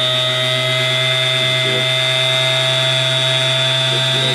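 A homemade arrow saw runs steadily at 7,800 RPM, a loud continuous motor whine with a strong high tone and low hum, holding constant throughout with no talk.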